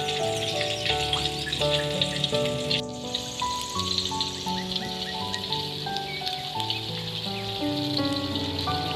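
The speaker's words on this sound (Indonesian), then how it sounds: "Terus pertama-tama aku mau goreng nuggetnya dulu." Homemade chicken nuggets frying in hot oil, giving a steady, dense sizzle and crackle throughout, with a faint tonal hum in the background and no talking.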